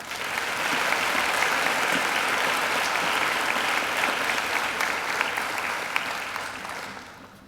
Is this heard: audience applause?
yes